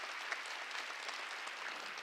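Congregation applauding during a church worship service, a dense, even wash of many hands clapping, sustained and fairly distant, with no talk over it.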